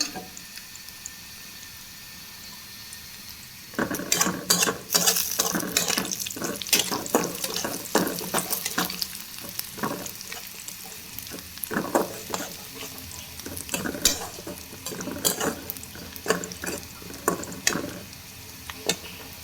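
Onions, with garlic and a bay leaf, frying in a pan, a steady close sizzle that jumps louder after a few seconds and continues with crackles and stirring scrapes, with no voices.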